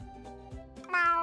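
A cartoon snail voiced as a meowing cat in a SpongeBob SquarePants video game, giving a few clear, close meows in succession with no talk over them.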